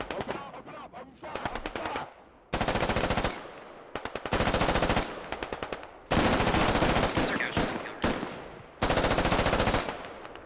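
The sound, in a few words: gunfire, rounds flying overhead, in the video game Squad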